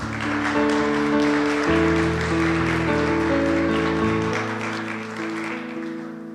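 Loud applause in a church service praising the Lord, a wash of clapping blended with sustained keyboard or organ chords that shift under it before fading slightly toward the end.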